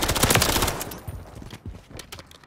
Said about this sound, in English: I have to use one of the fastest guns